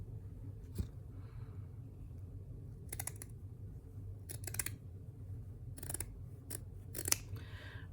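Scissors snip embroidery thread close by in a quiet room, a series of short sharp crisp cuts in irregular clusters, with a pause between some snips.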